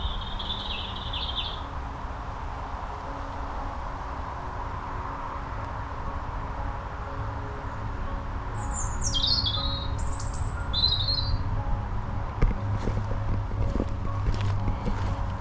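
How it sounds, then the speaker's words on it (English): Birds call along a riverside walking path, a few high chirps and squawks rising at intervals over steady outdoor background noise, with faint footsteps toward the end. "That's lovely, that, with that bird song."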